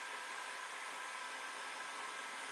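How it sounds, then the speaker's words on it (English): A heat gun blows steadily at close range, drying gilding wax applied over stenciled paint; a continuous, even hiss of forced air runs throughout with no talking. "my heat gun at the moment to dry that"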